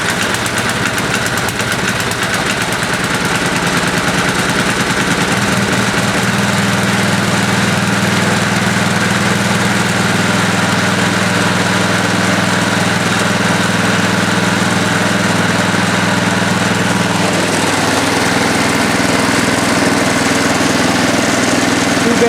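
Engine of a 1973 Ariens snow blower running steadily after a cold start in winter, a loud close chugging drone with rough, knocking idle and a slight change in pitch partway through.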